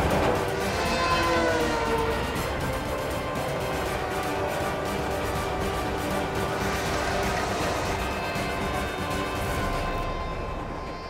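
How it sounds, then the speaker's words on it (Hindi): A train passes in a TV show scene, a loud continuous rumbling roar of rolling wagons with rhythmic clatter and tonal squeal, gradually fading toward the end. "ओह माय गॉड, कहीं ट्रेन ने बालवीर को कुचल दिया तो?"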